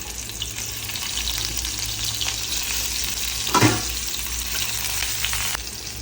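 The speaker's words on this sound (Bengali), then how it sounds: "অলিভ অয়েল দিয়ে দেবো, রসুন দিয়ে দেবো।" Chopped garlic fries in olive oil, a constant dense sizzle close by with a low hum beneath and one brief scraping stir in the middle.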